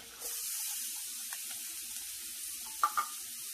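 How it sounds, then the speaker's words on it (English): Chopped onion sizzling in melted butter in a cast iron pan, a steady close hiss with a couple of brief clinks near the end, no talking. "I got a chopped up 3rd onion right here. I'm gonna go ahead and add that to it"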